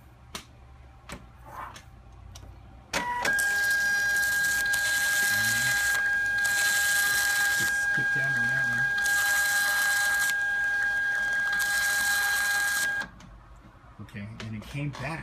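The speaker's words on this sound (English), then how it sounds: "It printed all 5 labels" A Zebra ZT230 label printer prints a run of five labels, producing a loud, close, unbroken mechanical whir with a steady whine for about ten seconds, with light handling sounds before and after.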